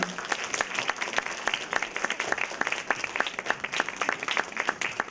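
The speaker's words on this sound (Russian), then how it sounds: "Встречаем бурными аплодисментами!" An audience at an Udmurt Grandmother's Day festival in Moscow greets a folk-song performer with steady, moderately distant applause of many hands that continues evenly throughout, without speech.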